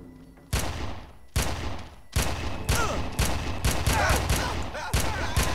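Gunfire from a sniper rifle in the video game Red Faction, a series of about eight sharp loud shots at irregular intervals, each followed by a brief echoing tail.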